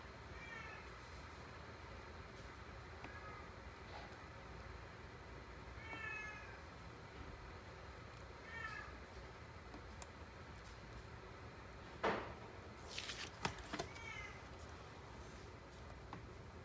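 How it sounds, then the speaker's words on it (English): A cat meows repeatedly, faint and fairly distant, in several short drawn-out calls over a steady background hum, with a few louder clicks and rustles near the end. "Kitty's yelling at Johnny now."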